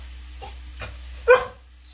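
A dog barks on command, a few separate barks with one louder bark near the end, fairly close in a quiet indoor setting with a low steady hum.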